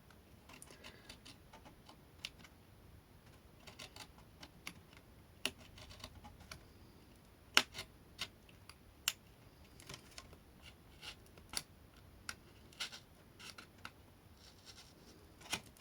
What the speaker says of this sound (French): Et on va venir essayer de découper ça proprement.